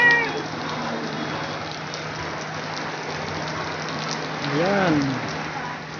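Steady rain hisses down outside the Minor Basilica Church of St. Martin de Tours in Taal, Batangas, a dense even patter throughout, with a cat's meow cutting in near the end and a brief spoken word early on.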